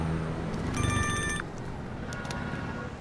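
A mobile phone rings with a short electronic ringtone burst, clear and fairly close, followed by a quieter chirp over faint background noise.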